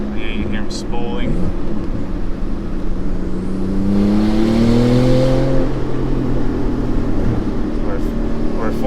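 Twin turbos on a tuned 660 hp Porsche 911 Turbo S heard from inside with the windows down, a steady engine drone with a rising whistle as boost builds, at altitude behind a truck, with voices over it.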